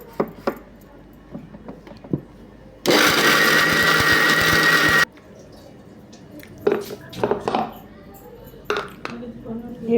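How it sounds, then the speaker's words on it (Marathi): Kitchen mixer grinding coconut, cashews, almonds and jaggery in a loud burst of about two seconds, with scattered clinks and handling sounds before and after. "ते मिक्सरला बारीक करून घ्यायचं."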